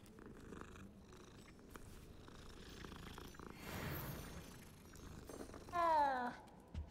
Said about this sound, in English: Two cats?